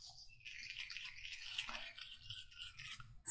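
Soft, dense manual toothbrush scrubbing teeth, a steady close-up bristly hiss with rhythmic back-and-forth strokes, no talking.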